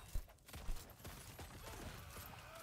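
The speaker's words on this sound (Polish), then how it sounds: "Takie malutkie wybuchy to robi." A skill in the game Last Epoch sets off rapid bursts of small explosions, quick crackling pops in a clustered, uneven rhythm, quiet and close.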